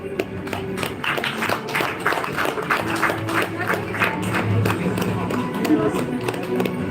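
Audience applause at a postal department award ceremony in South Karnataka, a steady patter of many hands clapping in a hall with a murmur of voices underneath.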